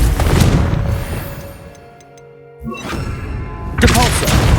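Confringo fire-blast spell in Hogwarts Legacy: loud thuds and crashing booms, a heavy impact burst at the start, a quieter lull, then a renewed thump and another loud blast near the end.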